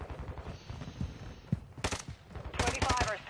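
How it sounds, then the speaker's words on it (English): Bursts of automatic gunfire crackle in a shooter video game, several rapid volleys clustered near the end, with muffled game sounds in between and no clear talk. "God damn, I got fucking shot from two different multiple sides."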